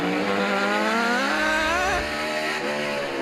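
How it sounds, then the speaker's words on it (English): NASCAR race car engine at practice, loud and sustained with rising and falling pitch sweeps as the car accelerates and passes, steady roar throughout with no talking. "But Mike, listen to that engine."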